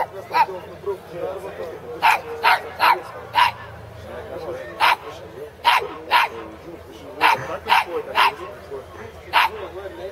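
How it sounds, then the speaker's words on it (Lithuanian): A dog barks repeatedly in short, sharp bursts at irregular intervals, fairly close, over a low background murmur. "Kodėl tas Katils loja?"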